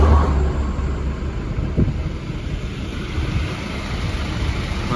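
A tour bus in East Java drives past outdoors, a steady broadband rumble with wind buffeting the microphone, fairly close and continuous for the whole stretch.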